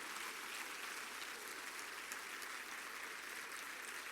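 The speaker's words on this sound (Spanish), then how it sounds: "Dale un aplauso de gloria al Señor" A church congregation applauds in praise during a sermon, a steady, even wash of many hands clapping that carries on without a break.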